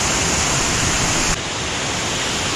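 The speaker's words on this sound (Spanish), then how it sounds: "La catarata cae y va a continuar su curso" Steady, dense roar of the Huanano waterfall near San Jerónimo de Surco, Lima, pouring into the river, a continuous broadband rush with a slight drop in level partway through, heard up close and without talk.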